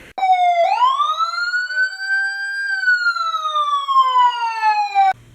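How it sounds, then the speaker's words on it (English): A loud ambulance siren sweeps up and holds a long, smooth wail, sliding slowly down in pitch, then cuts off abruptly, heard close and alone with no talk. "They had the air horn again on the ambulance."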